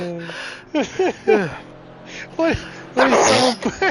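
In a race commentary booth covering a GT2 sim-racing round at COTA, someone sneezes with one sharp burst near the end, amid commentators talking and short vocal noises.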